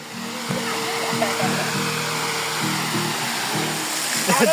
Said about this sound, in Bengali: এই ঝর্ণাটা কিন্তু অসাধারণ একদম শুনশান একটা জায়গার মধ্যে এই ঝর্ণাটা অনেক ভালো লাগছে ঘুরে